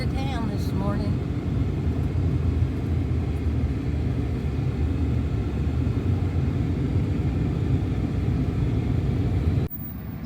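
A car driving into town in the morning, with a continuous low road rumble and engine drone from inside the cabin, steady throughout until it cuts off near the end.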